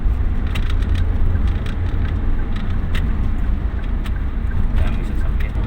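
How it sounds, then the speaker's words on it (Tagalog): Many vehicles pass on a road near Mainit, Surigao del Norte, creating a dense, steady rumble of traffic with wind buffeting the microphone throughout. "Dami sasakyan."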